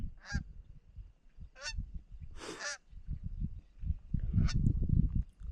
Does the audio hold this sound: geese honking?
yes